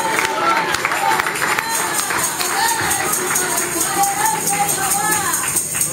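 A church congregation claps together in a steady, lively burst of applause, with voices and a sustained musical tone running through it.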